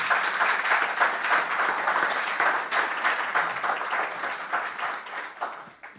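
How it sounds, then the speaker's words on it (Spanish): An audience applauds the speaker's wife with dense, sustained clapping, loud and steady before tapering off at the end, with no talk over it. "por favor un aplauso también para ella"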